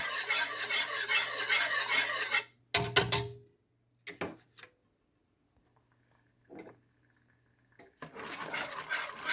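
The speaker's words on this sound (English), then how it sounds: "Keep on mixing or stirring." Creamy maize pudding (maja mais) thickened with cornstarch is stirred in a pot, giving rough scraping and rubbing bursts at the start and end, with a few brief knocks and long quiet gaps between.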